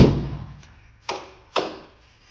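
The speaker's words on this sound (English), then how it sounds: "He's beating on the roof out there." Body hammers beat on the smashed roof of a side-by-side: one dull thump, then two sharp metallic taps about half a second apart, each ringing briefly before fading.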